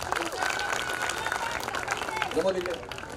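Applause from an audience at a community youth gathering, dense and sustained clapping mixed with crowd murmur throughout, fairly loud and steady.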